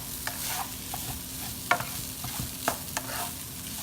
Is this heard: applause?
no